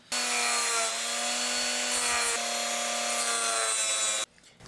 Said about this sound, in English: Right, so I've cut this wedge out, and there it is.